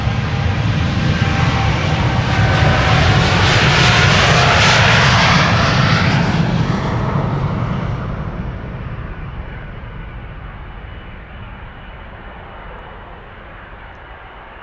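Airliner departing a runway at Amsterdam Schiphol Airport: a loud, sustained jet engine roar that swells and then fades steadily as the plane climbs away, with no talk over it.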